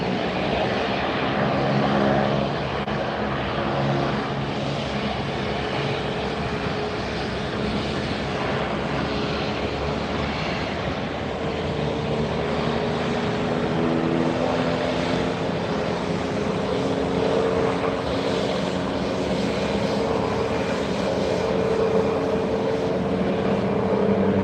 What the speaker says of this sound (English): Another Southwest taxiing up here.